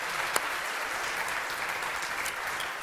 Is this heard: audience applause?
yes